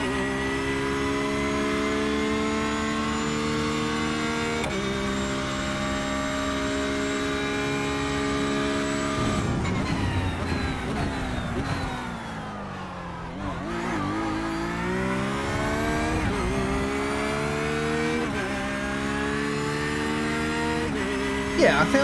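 A Porsche 911 GT3 R race car in iRacing screams through its gears, engine pitch climbing and dropping with upshifts and a braking downshift sequence midway, loud and continuous throughout.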